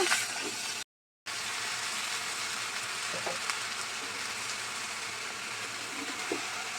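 Shrimp curry with salt, turmeric and green chilies fries in oil, a steady broadband sizzle heard close up with a few faint stirring scrapes, a brief dropout near the start and no talking.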